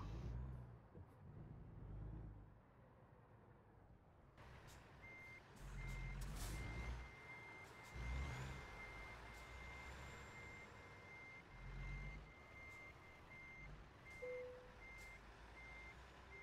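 Truck reversing alarm in American Truck Simulator beeps in a steady repeating pulse, layered over a low diesel engine rumble that swells and fades in surges, with no talking.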